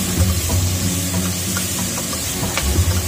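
Onions cooking in a pan for Japanese-style hamburger, a steady close sizzle and hiss with a low background hum, continuous throughout with no talking.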